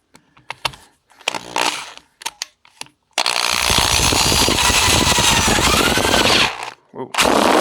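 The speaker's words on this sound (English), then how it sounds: "I'm going to drill them as straight as I can" A power drill bores holes into the front engine mount of a 2008 Harley-Davidson Dyna Super Glide. Scattered sharp clicks and taps give way to a loud, close, sustained grinding whine lasting about three seconds. After a short pause the drill starts up again.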